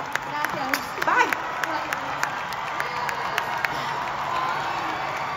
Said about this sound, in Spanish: El aplauso fuerte para María José